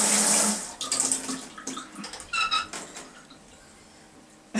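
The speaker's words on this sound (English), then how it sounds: "you can turn it on and switch to the shower" Water from an apartment shower sprays and splashes in a bathroom, starting with a loud hiss that settles into intermittent gushing bursts, close by with no talking.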